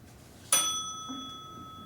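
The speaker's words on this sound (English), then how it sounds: "If there's anything you need, you can just ring this bell." A single hand bell struck once on a theater stage, a bright ringing tone that decays slowly over about a second in a quiet room.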